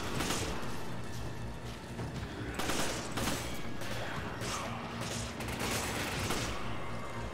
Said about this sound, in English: Bro, fella's shooting me through boxes.